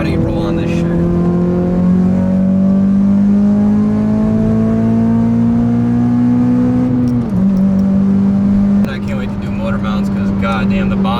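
Acura TSX engine droning steadily while driving, its pitch rising slowly then dipping sharply as the engine bogs, followed by a few clunks, with the loud cabin hum continuing throughout.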